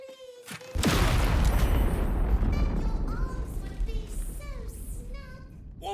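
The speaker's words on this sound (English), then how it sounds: "From the sound of that explosion, I'm not surprised." A sudden loud explosion in the video game Baldur's Gate 3 bursts in and then rumbles and slowly fades, with character voices speaking before and after the blast.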